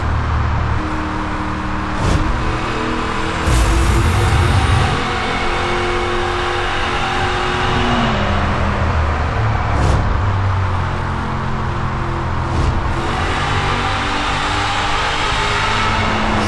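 A Dodge Charger engine in the video game Need for Speed Hot Pursuit roars and revs continuously, shifting pitch as it accelerates and decelerates, with a few brief sharp clicks, loud and close without talk.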